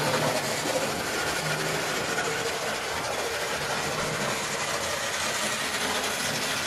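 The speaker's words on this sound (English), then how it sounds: "the forward motion of the locomotive is carrying it over the point." A model Lydham Manor locomotive rolls steadily over railway points, giving a continuous close mechanical whir and rumble with no voices.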